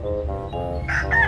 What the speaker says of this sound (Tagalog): Ang manok ni ng papa.